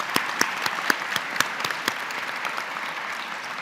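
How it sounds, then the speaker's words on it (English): A town hall audience gives steady applause for outgoing credentialing commission members, a dense even wash of clapping with a few sharper claps standing out near the start. "let's give a round of applause thanking them for their service"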